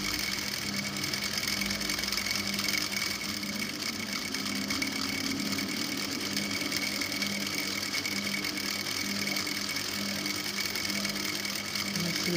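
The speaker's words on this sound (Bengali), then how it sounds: "আমি এবার সেলাইটা দিয়ে দেব।" Sewing machine stitching a child's skirt, running steadily and continuously for the whole stretch at a close, even level with no talking.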